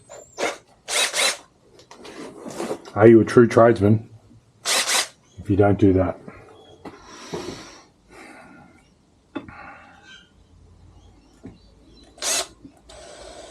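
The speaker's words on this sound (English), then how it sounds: "A little marking drill here." A small drill bores a marking hole during a back rest install on a Victory Judge motorcycle, giving short whirring bursts of a few seconds each, close and loud, with brief talk in between.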